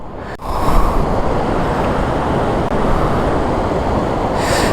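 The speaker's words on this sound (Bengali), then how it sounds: "জাস্ট এখান থেকে সমুদ্রের গর্জনটা শুনেন।" Sea waves roaring on the beach at Cox's Bazar, a loud, continuous rushing surf mixed with wind noise on the microphone, with no break in the roar.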